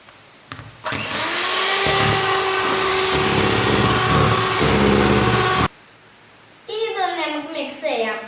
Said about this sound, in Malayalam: ഇനി നമുക്ക് വിപ്പിംഗ് ക്രീം വിപ്പ് ചെയ്താലോ.